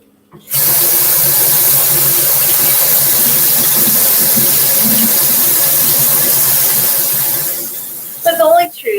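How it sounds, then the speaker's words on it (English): Tofu stir-frying in a pan, a steady loud sizzle and hiss that starts abruptly and holds evenly before cutting off near the end. "Stir frying some tofu."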